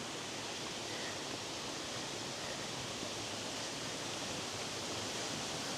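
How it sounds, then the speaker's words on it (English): A clear stream flowing near a waterfall in Yorkshire, heard as a steady, even rush of water. The broad wash of sound holds without a break and stays fairly quiet. "We come down this nice little lovely clear stream."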